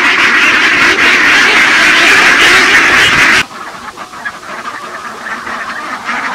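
Farmed ducks quacking loudly and continuously in a dense chorus, then the sound abruptly drops to a quieter, sparser level of quacks and ambient noise.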